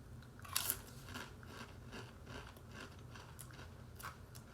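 Wavy limited-edition MOA burger Pringles chips crunched and chewed close to the mic, with a sharp loud bite near the start followed by steady rhythmic chewing crunches.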